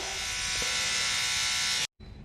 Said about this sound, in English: You just take an electric toothbrush and you go on the flower.